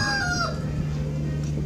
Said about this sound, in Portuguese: O Galo Rei cantando ali,